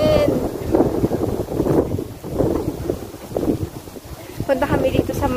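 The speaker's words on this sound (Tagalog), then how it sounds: "Super hangin dito sa taas." Strong wind on a hilltop in Baguio City rushes and buffets the microphone in gusts, with people talking loudly over the roaring air.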